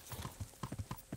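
Horse in the medieval video game Kingdom Come: Deliverance, hooves clip-clopping in a steady walking rhythm with soft snorting, close and moderately quiet, with no talking over it.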